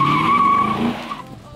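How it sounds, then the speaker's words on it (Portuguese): A car drifts with a loud, close tire squeal and skid mixed with engine tone, fading out after about a second. "Vai ser lindo esse drift"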